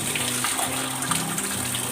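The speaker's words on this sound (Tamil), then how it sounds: "இதோட தண்ணியை வடித்து வச்சிடலாம்." Water gushes and splashes steadily as washed cauliflower is drained, a close, continuous pouring sound with no talk.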